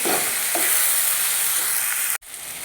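Spices such as Kashmiri chilli, cumin and coriander are stirred in a frying pan for chilli chicken, giving a steady sizzle with scraping that cuts off abruptly near the end.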